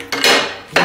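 Metal spoons, forks and knives clatter and clink loudly up close in two quick bursts as they are handled together.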